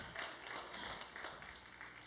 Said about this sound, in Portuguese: Aplauda com força em nome de Jesus.